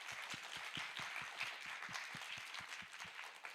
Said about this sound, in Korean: 다시 영광의 박수 하나님께